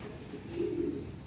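A single short, low coo from a champion breeder pigeon rises briefly midway over soft background hiss, close and quiet, with no one talking.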